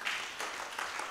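Brief burst of audience applause at a live televised debate on the death penalty in Tanzania, steady dense clapping from many hands, moderately loud and sustained with no talk.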